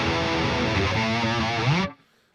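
Distorted electric lead guitar with a chorus effect in a metal tone, a sustained wavering note that slides upward before cutting off abruptly near the end, played alone.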